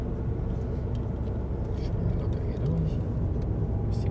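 Manual car on a driving lesson, its engine droning steadily inside the cabin as it pulls forward, with a steady low rumble and road noise while people talk over it.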